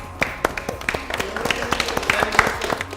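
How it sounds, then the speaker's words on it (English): A modest audience claps for the winner of a construction-industry competition, sharp individual hand claps standing out in an uneven rhythm over a low room murmur, fairly close and moderately loud. "So if we can have a round of applause for Nathan"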